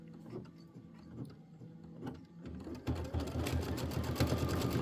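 Kimberbell embroidery machine stitching a decorative garden outline: quiet, rapid mechanical chatter with faint taps at first, growing to a steady, louder buzzing rattle partway through.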